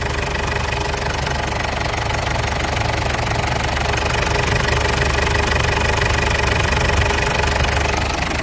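A diesel car engine runs rough and knocks steadily during an injector test, a continuous loud uneven idle with mechanical clatter throughout.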